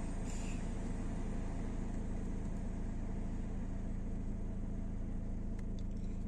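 Steady low whirring hum of the ventilation blower fan inside a Citroën C4 Picasso, constant and unchanging, with a faint engine rumble underneath and no voices.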